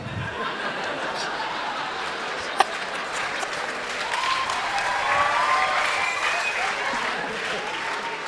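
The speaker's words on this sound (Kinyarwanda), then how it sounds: "mukomera amashyi menshi cyane Rocky na Junior" Audience applause at a comedy stage show, steady dense clapping from a crowd that swells slightly toward the end, with scattered chuckles mixed in.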